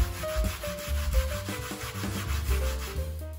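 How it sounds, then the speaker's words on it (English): Popsicle sticks are sanded by hand with sandpaper, giving steady rubbing strokes of dry abrasive on scrap wood, close and continuous with no talking. "The safer alternative is to use sandpaper and manually sand the popsicle sticks down to"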